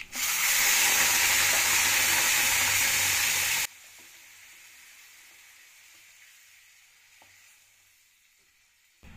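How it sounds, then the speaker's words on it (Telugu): Tomato paste for a preserved tomato pickle sizzles loudly in hot oil as it is stirred in a pan, a steady close hiss for several seconds that then drops off abruptly to a quiet, faint frying sound. "వేసి బాగా వేగేంత వరకు కలబెట్టుకుంటూ మాడిపోకుండా చూసుకోవాలి"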